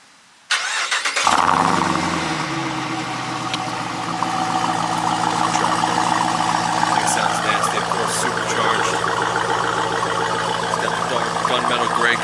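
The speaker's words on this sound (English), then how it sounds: "Start it up real quick with the remote start" A 2018 Jeep Trackhawk starts by remote after a short quiet moment, its engine catching with a loud bark and then holding a strong, steady idle rumble up close.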